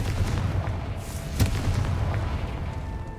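A Confringo spell blast in Hogwarts Legacy: one sharp, booming explosive burst with a rumbling tail against a low game ambience, moderately loud and isolated.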